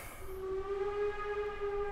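A steam train in the Simutrans pak192 comic game blows a steady tonal whistle as it arrives at a station, the sustained harmonic note ringing loud and clear for about two seconds with no speech.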